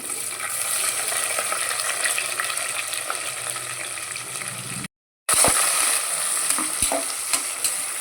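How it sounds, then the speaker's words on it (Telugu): Onions, green chillies and curry leaves fry in a pan for mushroom pulao, a steady loud sizzle with stirring scrapes that cuts out briefly near the middle, then resumes. "ఆనియన్స్ బాగా వేగాలి కరేపాకండి"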